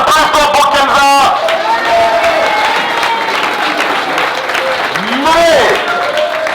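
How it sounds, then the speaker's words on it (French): An audience applauds loudly at a live game show event, steady clapping mixed with cheering and crowd chatter, while a presenter talks over it. "applaudissements pour Kenza"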